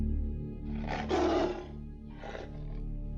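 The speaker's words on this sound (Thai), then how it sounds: "ไม่นานเสียงคำรามก็ดังขึ้น" A wild animal roars in a forest at night, a loud growling burst followed by a second shorter roar over a low rumbling background.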